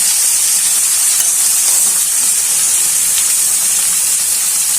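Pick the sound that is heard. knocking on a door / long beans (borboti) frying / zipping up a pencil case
long beans (borboti) frying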